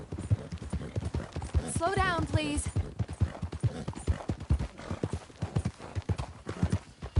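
Horse hooves clip-clop in a steady rhythm in a PS4 video game, with a brief whinny near the start and people talking over the hoofbeats.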